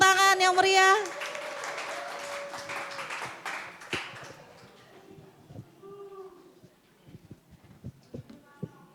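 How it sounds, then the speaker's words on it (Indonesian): Applause from a seminar audience welcoming a pastor as speaker, starting after a brief voice, dense at first then thinning and fading to a few scattered claps. "berikan tepuk tangan yang meriah"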